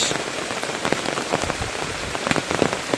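Steady morning rain patters densely on a surface close by, a continuous hiss of droplets with scattered louder drips and no voices.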